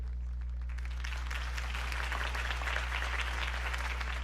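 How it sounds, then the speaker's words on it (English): Applause from a crowd in the video game Batman: The Telltale Series swells and continues steadily over a low constant hum, sounding somewhat distant. "could have heard that applause"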